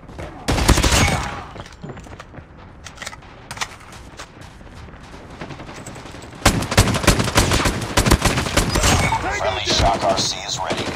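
Gunfire in Call of Duty Mobile, loud rapid automatic bursts up close, a heavy volley early, scattered shots in between, then a long dense stretch of continuous fire.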